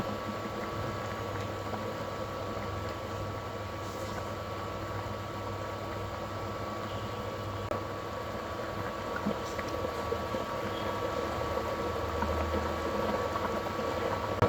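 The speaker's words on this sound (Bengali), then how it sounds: "পানি ফুটে উঠেছে এখন এখানে আমি ডিম দিয়ে দিচ্ছি" Water boils in an egg, cauliflower and potato curry, making a quiet, steady bubbling hiss that holds without a break and has no talking over it.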